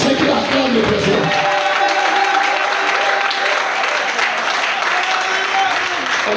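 Church congregation applauding and cheering, a dense continuous roar of clapping and voices that fills the whole stretch, loud and close, with a brief deeper rumble at the start.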